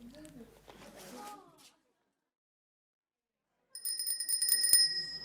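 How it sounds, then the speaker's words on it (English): A bicycle bell rung in a lecture hall, a few bright metallic rings near the end after a stretch of silence, with a voice talking just before. "I'm going to ring a bike bell in 2 minutes' time."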